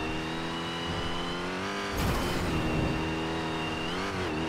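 A car engine in GTA 5 holds a steady drone, then revs sharply at about two seconds and keeps roaring close and loud, with no voices.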